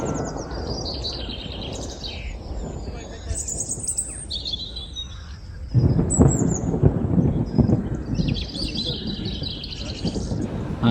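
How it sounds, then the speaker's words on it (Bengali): Heavy rain during a thunderstorm in the Dooars, a steady wash of rainfall with birds chirping above it, growing louder and harsher partway through as the downpour intensifies. "বৃষ্টি, ভীষণ বৃষ্টি হচ্ছে।"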